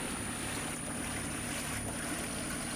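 A sailboat motors out of a calm anchorage under engine power, giving a steady low engine hum mixed with water and wind noise, continuous and fairly close with no talking.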